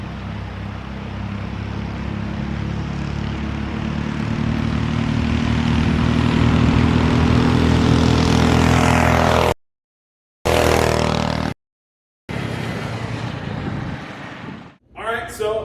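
Engine with a torque converter running on a motorized shopping cart, a loud, steady droning roar that rises in pitch as it builds, then cuts out abruptly twice before returning and fading.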